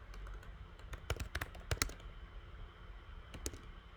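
Rapid keystrokes on a computer keyboard while entering a terminal command, a burst of close clicks clustered in the first two seconds, then a pause and a few final taps near the end, with no talking.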